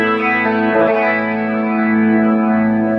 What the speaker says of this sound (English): that frog preamp, it makes everything way louder, way brighter, in a good way